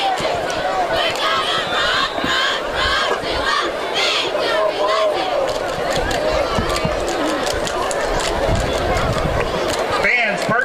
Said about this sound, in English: You can hear the cheerleaders down below cheering their hearts out